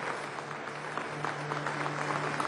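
A crowd at a ceremony marking 200 years of Venezuela's Third Republic gives a theatre company sustained, dense applause, steady clapping filling the hall with a low hum beneath.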